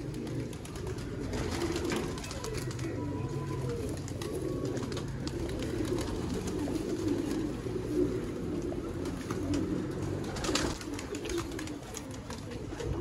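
Fancy pigeons kept by a hobbyist in Haripur, Hazara, cooing steadily at close range in a soft, repeated, throaty rhythm over a constant murmur of background noise.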